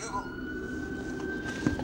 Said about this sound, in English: we got some ambulances passing around